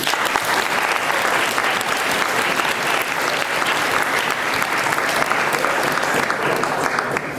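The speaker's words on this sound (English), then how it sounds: "A big round of applause for Angus and Tim" Sustained applause from a large student audience at a university guild presidential debate, greeting the two politics club hosts; dense, steady clapping fills the room for the whole stretch without voices.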